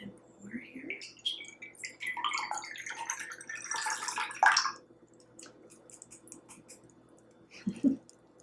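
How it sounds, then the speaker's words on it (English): A margarita poured into a blue margarita glass, a liquid splash and trickle with some drips, quiet and close. "I will be pouring mine into this blue margarita glass"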